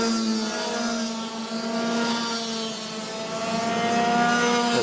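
Clubman race cars, light and heavy classes at a New South Wales winter cup meeting, rev loudly through a hairpin bend, several engine notes overlapping in a steady, close, sustained roar with rising and falling pitch.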